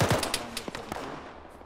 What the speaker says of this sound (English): Jesus, those rounds are getting close.